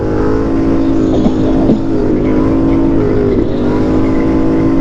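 A street motorcycle engine drones loud and close in a steady, harmonic roar during a wheelie, with slight pitch wobbles. It runs on a funeral escort ride.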